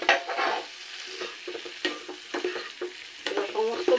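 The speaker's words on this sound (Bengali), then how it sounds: "এবার কচুটা দিয়েও আরও কিছুক্ষণ কষাবো" Chunks of fried taro stirred into a spice paste in a pan, with steady sizzling and repeated scraping strokes of a spoon running throughout at close range.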